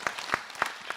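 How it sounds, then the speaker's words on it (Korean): Audience at a Buddhist monk's televised dharma talk claps in sparse, scattered bursts, four or five distinct hand claps heard faintly over roughly a second. "박수로 맞으세요"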